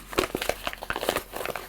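Paper being crumpled while batch-making crafts, a run of crisp, irregular crinkling crackles close by, dense bursts with brief gaps and no talk over it.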